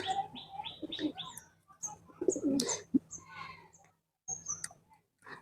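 Home-kept pigeons with newly hatched chicks coo softly in short, scattered bursts, mixed with bright chirps and brief pauses, close by and fairly quiet.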